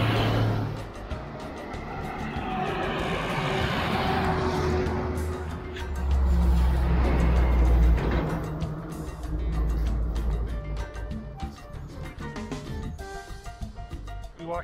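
Cars pass along a busy main road in Medellin, Colombia, with engines swelling and fading as vehicles go by close to the listener, loud rushes between quieter gaps.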